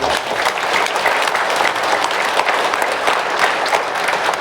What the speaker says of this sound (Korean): 우리 이분들을 위해서도 우리 위로의 박수를 보내주시고